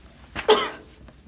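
A woman gives a single short cough with a throaty rasp, close and fairly loud, in an otherwise quiet room.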